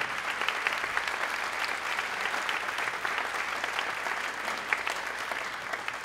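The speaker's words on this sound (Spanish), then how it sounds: "para quien pide un fuerte aplauso" An audience at a religious music festival claps steadily for the maestro of a brass quintet, a dense, continuous round of applause that holds at even strength from start to finish with no voices over it.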